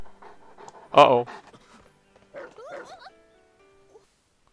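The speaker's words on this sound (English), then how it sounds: "That's a puppy that's alive, don't throw it out." A puppy in an anime episode gives a loud yip and whimpering, panting sounds, followed by softer high whines, while a person speaks briefly over it.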